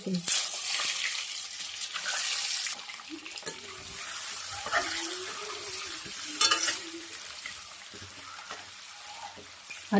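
Eggs frying lightly in a pan for a Telugu prawn and egg gravy curry, a soft steady sizzle with occasional stirring and scraping, fairly quiet and close.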